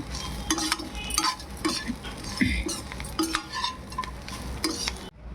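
Fried ivy gourd pieces stirred in a pan, with repeated scraping and clinking of a spoon against metal over a soft sizzle, then a sudden stop at the end.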